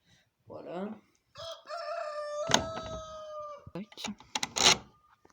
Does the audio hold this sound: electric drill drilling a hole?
no